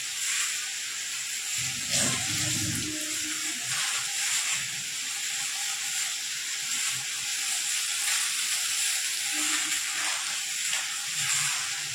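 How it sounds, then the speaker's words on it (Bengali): Pointed gourd and potato pieces with spices frying in a pan on a home stove hiss softly and steadily, with a few low clunks from stirring and no voices. "আর হচ্ছে ওখানে পটল আলু সবজি দিয়ে মশলা কষাচ্ছি ভালো করে"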